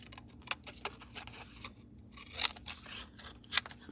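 Scissors snipping through patterned designer paper in short crisp cuts, several separate quiet snips with pauses between them, close and without talk.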